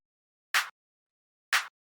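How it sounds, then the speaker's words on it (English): Two crisp, bright clap hits from a melodic house drum group, evenly spaced about a second apart, short and snappy with a quick decay, isolated against silence. "the last thing inside of this group, before I show you what's on the group, is the clap, which sounds like this."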